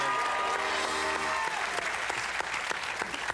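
A man applauding himself, a parking lot security guard named Guillermo, in a dense, steady burst of clapping that fills the whole stretch. A faint tonal musical sound fades out under it during the first moments.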